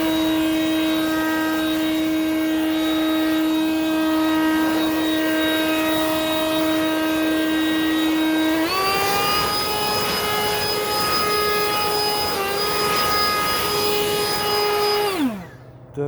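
A Ryobi 40V HP brushless leaf blower runs at close range with a loud, steady whine, jumps to a higher-pitched speed partway through, then winds down at the end.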